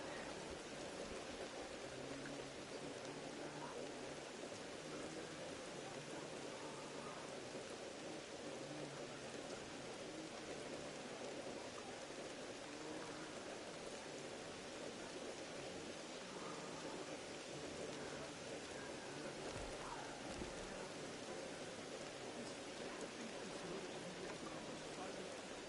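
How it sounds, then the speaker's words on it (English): Steady rain falls in the video game Horizon Zero Dawn, a continuous soft hiss of drops on surfaces that runs unbroken for the whole stretch at low level, with no speech on top. "More rain."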